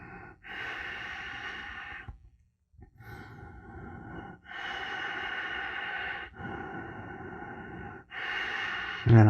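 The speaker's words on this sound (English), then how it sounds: "we're going to slow down now. We're going to catch our breath. Just go back to normal breath now." Slow, deep breaths wind down after a breathwork session. Long audible exhales and sighs come close to the microphone, separated by short quiet gaps.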